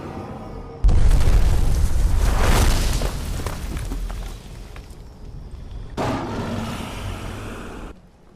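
A dragon crashes to the ground in Skyrim, a loud sudden boom followed by a long heavy rumble and debris, then a second rolling impact burst near the end.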